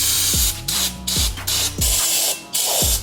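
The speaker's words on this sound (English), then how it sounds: "All we gotta do for this guy is just clean it off with some brake cleaner." Brake cleaner sprays onto a corroded brake part in a series of loud, close bursts of hiss, roughly five or six short blasts separated by brief pauses.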